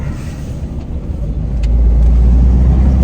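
A truck's engine rumbles low and steady, with the pitch dipping during a manual stick shift gear change, then building into a louder, fuller drone as the truck pulls away again.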